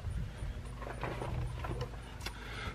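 Ratcheting mechanical clicks from a tool loosening the two screws on a Chevrolet Tahoe throttle body, close and steady over a low background rumble, with no voices.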